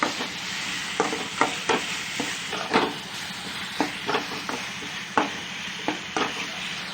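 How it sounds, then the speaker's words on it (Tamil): Ginger garlic paste sautéed with tomato in a pan for prawn curry: a continuous loud sizzle broken by regular scraping strokes of a spoon, close up and with no voices. "இஞ்சி பூண்டு பேஸ்ட் போட்டு நல்லா பச்சை வாசனை போகிற அளவுக்கு வதக்கணும்."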